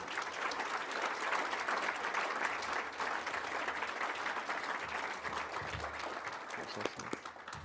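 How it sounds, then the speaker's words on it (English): An awards-ceremony audience gives steady, sustained applause for the nominees, with dense even clapping filling the room and faint crowd murmur beneath. "let's give them all a round of applause"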